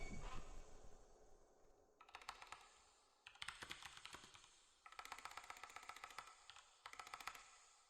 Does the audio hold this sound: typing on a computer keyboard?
yes